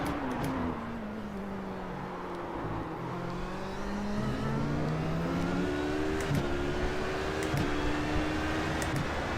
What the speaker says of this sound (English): And there's the DP01 champ car, which was awesome.